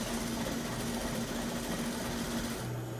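A sewing machine stitches a DIY envelope cushion cover, running in a steady, continuous whir with a fast repetitive needle rhythm and motor hum for nearly the whole stretch before easing off at the end; close and fairly loud, no talk.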